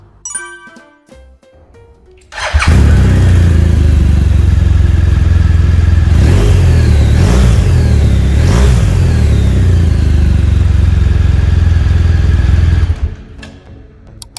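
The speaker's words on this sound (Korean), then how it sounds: "이제 시동 영상 한번 보겠습니다" A 2018 BMW R1200GS Adventure motorcycle starts up after a quiet pause, then idles loudly and close with several sharp throttle blips rising and falling before the engine is shut off.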